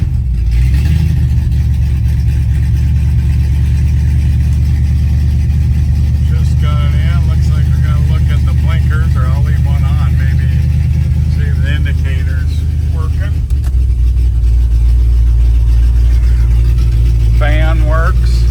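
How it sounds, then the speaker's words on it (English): A rebuilt 302 V8 in a 1969 Mercury Cougar runs at a steady, loud, deep idle for the whole stretch, with a brief dip near the end, while a person talks intermittently over it. "We're gonna start up our 69 Cougar."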